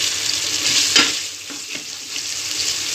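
Masala with white chickpeas frying in a pan sizzles steadily up close while a spoon stirs it with a few soft scrapes.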